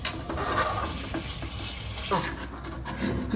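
Ground masala sizzles in hot oil in a pan, close and loud, as a spoon scrapes and stirs through it in uneven strokes, with no talking over the continuous frying noise.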